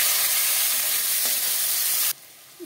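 Panch phoron and chopped onion fry in hot mustard oil with a steady, loud broadband sizzle. Partway through it cuts to a quieter hiss near the end.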